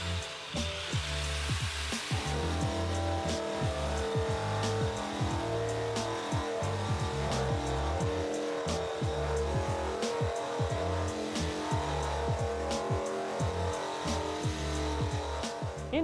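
Surface conditioning tool grinding rust off a car hood, a loud continuous whirring with fluctuating pitch and rough scraping pulses as the spinning tool moves across the metal panel.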